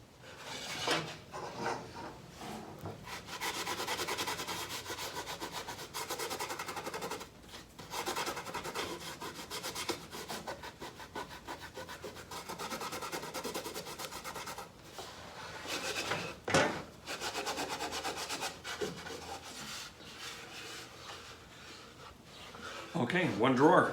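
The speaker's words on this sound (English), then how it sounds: "I'm just going to rub a little sawdust and over all those glue joints." Sawdust is rubbed by hand over the glue joints of a wooden drawer for a console table: soft, scratchy rasping strokes that repeat irregularly, with a voice talking over them.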